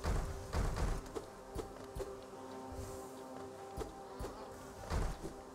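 Bees buzz in the hive in Hollow Knight, a continuous insect drone laced with low thuds and pulsing swells, moderately quiet and with no voices.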